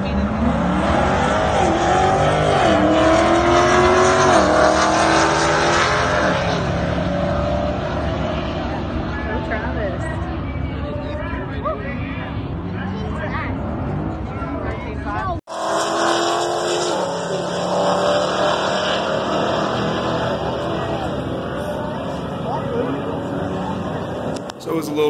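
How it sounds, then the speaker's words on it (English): Drag race cars launching at a grudge match drag strip, with loud engine roar and revving that shifts abruptly partway through, one car losing traction with tire spin on launch; crowd and voices mixed in beneath the engines. "He doesn't have any drag radials, so he lost traction on the launch, which Travis took advantage of that"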